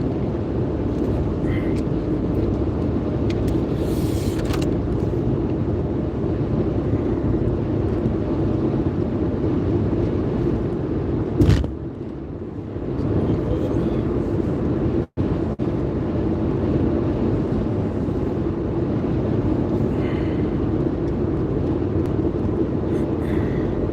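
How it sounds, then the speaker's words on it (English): Wind whipping across the microphone during a breezy outdoor ride on a cool St. Patrick's Day, a continuous low rumbling roar with a couple of sharp gust bursts partway through. "It's kind of windy and it's not freezing cold, but with the wind whipping"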